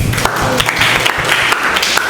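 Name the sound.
audience applause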